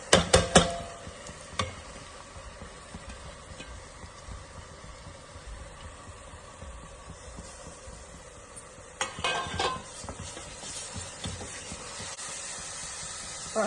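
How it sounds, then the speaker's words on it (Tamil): Ginger garlic paste sizzles with softened onions in a pan as ghee rice is prepared. A quiet, continuous frying hiss runs throughout, with sharper stirring scrapes and clatter near the start and again about two-thirds through. "இந்த ஸ்டேஜில் வந்து இஞ்சி பூண்டு பேஸ்ட் சேர்த்து"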